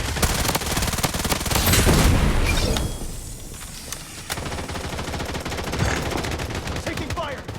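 Rapid automatic gunfire and booming shots from the online shooter game Blood Strike, dense bursts rattling for most of the stretch, briefly easing in the middle before resuming, with in-game voice callouts.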